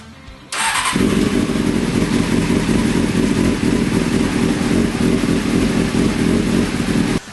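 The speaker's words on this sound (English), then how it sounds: "we're actually going to start the bike" A motorcycle engine starts after an oil change at a motorsports shop, cranking briefly then catching into a loud, steady idle that runs on close by, with no talk.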